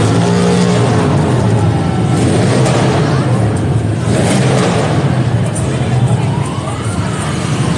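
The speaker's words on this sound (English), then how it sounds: "A moron would ride a really loud motorbike along here" A loud motorbike engine roars continuously nearby, revving and droning as it passes near a horse and King's Guard, with faint voices mixed into the noise.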